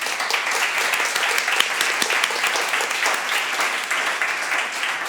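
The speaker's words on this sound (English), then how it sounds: "I think we should give Hubert a very big round of applause." Dense, steady applause from a conference audience at an art and science panel event in Munich, with many hands clapping evenly at a constant moderate level for the whole stretch.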